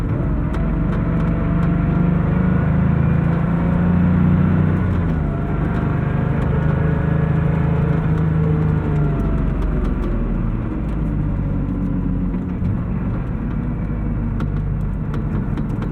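Steady engine and drivetrain drone from a 1988 Porsche 911 Carrera under way in fourth gear, heard from inside the cabin, with a thin high whine over a constant low rumble and no talk.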